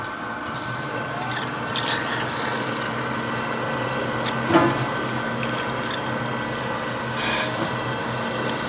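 A crankshaft regrinding machine working on a Ford Ranger 2.2 TDCi crank, giving a continuous loud whir and hiss with a brief scraping swell midway and another near the end.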